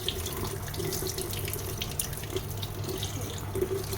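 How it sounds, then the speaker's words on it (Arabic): Tap water runs steadily into a sink while salted fish gills are rinsed under it, a continuous hiss of splashing flow with faint gurgles and no voices. "ادخل الميه جوه النخاشيش"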